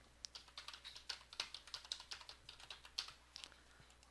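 Fast, uneven keystrokes on a computer keyboard as a variable name is typed, a steady run of close, crisp clicks with no talking.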